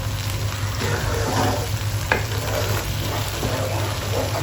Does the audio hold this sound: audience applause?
no